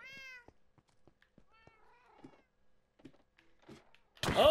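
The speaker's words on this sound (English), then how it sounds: "there's a kitty right here" Cat in the Minecraft video game, meowing once clearly at the start, followed by faint scattered game clicks and a loud burst at the end.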